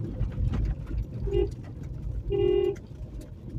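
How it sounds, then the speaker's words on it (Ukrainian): A car horn gives two short honks about a second apart from inside a vehicle arriving at a house, heard over a low engine rumble with no talk. "І сигналю"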